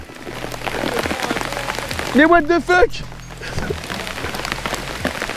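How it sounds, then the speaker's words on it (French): Hail pelting down during a fishing trip on a wild river, a dense loud patter of hailstones that continues throughout, with a man's short startled exclamations partway through. "Mec, on prend de la grêle."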